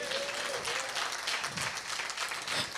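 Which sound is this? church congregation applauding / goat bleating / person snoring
church congregation applauding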